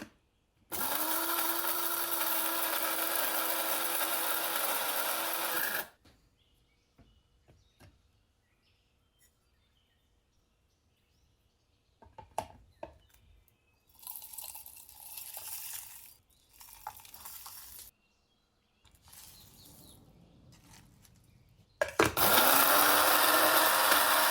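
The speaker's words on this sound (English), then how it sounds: "I'm using an electric grinder, but you can also use a pestle and mortar to keep it wonderfully authentic." A small electric grinder blitzes whole spices, bay leaves among them, for garam masala, giving a loud, harsh whine in one long burst, then quieter rattles and knocks, then roaring up again at the end.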